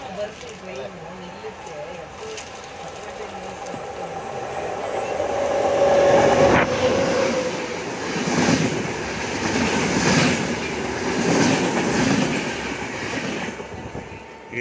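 A Chennai–Mysuru Shatabdi express passes a waiting train near a crossing, its rumble swelling to a loud, steady roar with rhythmic wheel clatter and a brief squeal, heard from inside a carriage under occasional talk.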